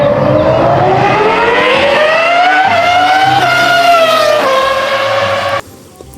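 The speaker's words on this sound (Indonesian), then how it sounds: "Wadidaw, ada mobil balap." A toy red race car gives off a loud, close electronic engine sound, a buzzy tone that rises and climbs steadily like revving before cutting off abruptly near the end.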